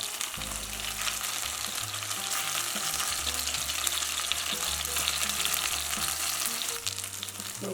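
Cauliflower pieces frying in hot oil in a pan, a dense continuous sizzle with crackling splatter, close and steady throughout, alone without speech.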